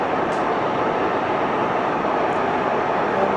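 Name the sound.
Aermacchi M-345 jet flying in video game X-Plane 12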